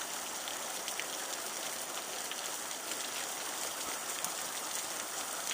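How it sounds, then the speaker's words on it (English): Heavy rain pours down outdoors in a steady, dense hiss of drops striking leaves and ground, loud and unbroken throughout with no voices. "She's out in the pouring rain, hunting for green tomatoes."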